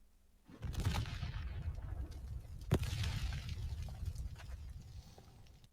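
An explosion in an AI-generated video bursts in suddenly, then rolls on as a loud, sustained low rumble with a sharp crack partway through, slowly fading over several seconds.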